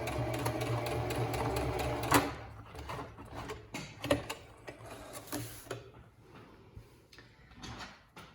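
A sewing machine stitches pinned fabric for a quilted sewalong project, running in a steady close rattling burst for about two seconds, then continuing in shorter stop-start runs of stitching.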